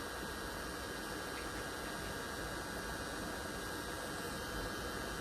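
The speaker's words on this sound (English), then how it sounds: "again, with using a heat gun, be careful" A heat gun blows a steady, loud, unbroken rush of air with a low hum beneath it while desoldering vintage pachinko machine parts.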